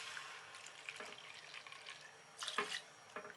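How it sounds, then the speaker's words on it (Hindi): Water poured from a measuring cup into a non-stick pan holding sugar for custard powder halwa, a soft steady trickle with a few brighter splashes near the end, fairly quiet and with no talking. "इस सेम कप से मैं 3 कप पानी डाल रही हूँ।"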